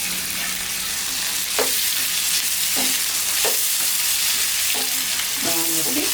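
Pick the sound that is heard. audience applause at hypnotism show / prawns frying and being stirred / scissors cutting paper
prawns frying and being stirred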